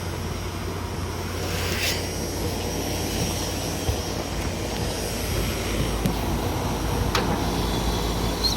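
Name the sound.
HVAC unit fan running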